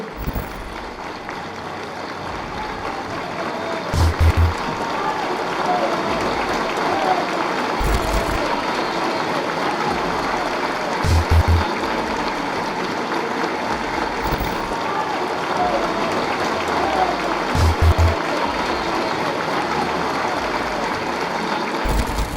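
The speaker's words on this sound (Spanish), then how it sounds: "para quien pido un aplauso, todos de pie" Standing ovation in the National Assembly, a sustained wash of clapping from many legislators across the chamber, steady and moderately loud, with a few louder thumps recurring and faint crowd murmur beneath.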